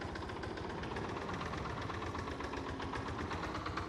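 A ride-on mower engine in Farming Simulator 22 runs at a steady idle, with a continuous low chugging rumble and a faint knocking rhythm that stays even throughout.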